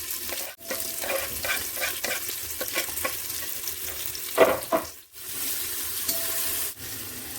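Finely cut onions sauté in a pan with a continuous sizzle, broken by bursts of stirring and scraping and a couple of brief dips in the sound.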